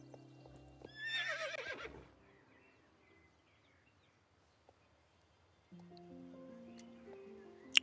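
A horse in the video game Star Stable Online gives one loud whinny near the start, followed by quiet clip-clop of hooves and soft ambient tones, with game music rising toward the end.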